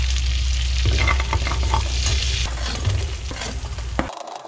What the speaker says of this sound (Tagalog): Kaya, yun lang jeera yung niluluto ko.